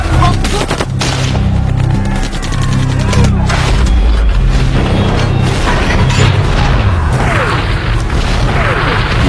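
Heavy artillery explosions in a Vietnam War film battle scene, deep booming blasts rolling one after another with dense crackling gunfire and rumble throughout, loud and close, with shouting voices mixed into the chaos.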